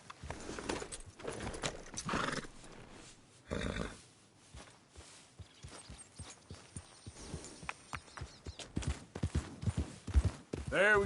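Horse galloping in the video game Red Dead Redemption, a rapid run of hoofbeat thuds carrying on through most of the stretch, with a short louder noisy burst near the start and a breathy whinny near the end.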